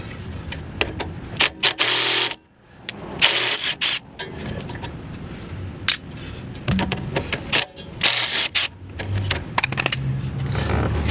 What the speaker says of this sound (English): we're going to start by removing these two caliper pushpin bolts